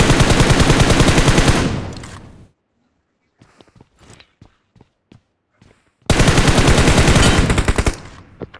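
Automatic gunfire in the PUBG video game, two long loud sustained bursts separated by a quiet gap with a few clicks and footsteps, heard close.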